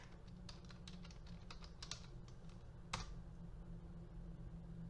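Rapid clicking of a computer keyboard as someone types into a web browser's address bar, a quick irregular run of soft keystrokes near and alone against a steady low hum.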